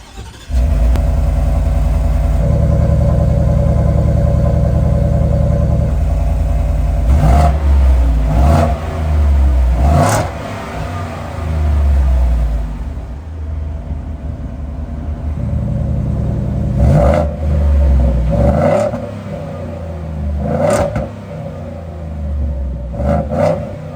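A 2024 Roush F-150 with a 5.0 Coyote V8 and dual stainless side-exit exhaust revs loud and close in repeated throttle blips, deep rumbling surges rising and falling over a steady idle, with no voices.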